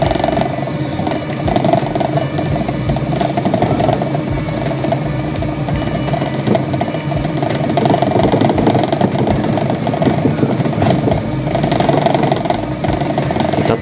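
A Honda Supra motorcycle engine runs in second gear, giving a loud, close, continuous mechanical drone with a rough, vibrating knock throughout.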